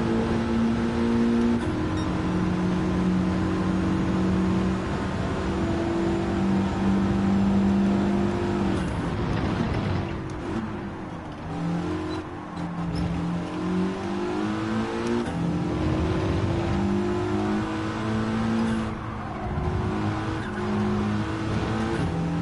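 Race car engine in Gran Turismo 7 during a GT4 endurance race, revving steadily and loudly throughout with shifting pitch, brief dips around gear changes, and faint tire squeal.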